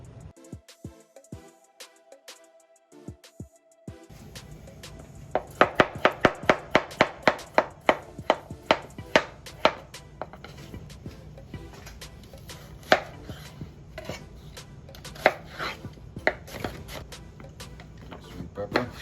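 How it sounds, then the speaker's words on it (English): A knife chops sweet peppers and other vegetables into chunks for brown stew chicken, with a few slow cuts followed by quick, sharp, steady taps on a cutting board, close and distinct. "I'm going to go ahead and cut everything up"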